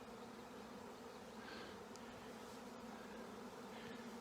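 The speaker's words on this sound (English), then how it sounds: "We got a swarm happening." A swarm of honey bees buzzing around beehives, a dense, continuous hum of many insects heard at a distance, steady and fairly faint throughout, with no talking.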